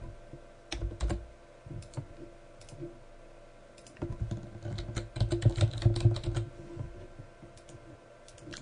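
Fingers type text on a computer keyboard at close range, with scattered soft key clicks giving way to a denser, quicker burst of tapping, then a few isolated presses, over quiet room tone.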